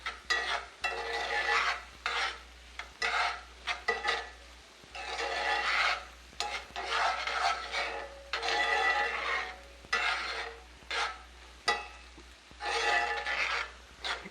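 Mayonnaise and Worcestershire sauce are stirred together in a bowl, giving repeated scraping, rasping strokes in an uneven rhythm, close and moderately loud, with short pauses between bursts and no voices.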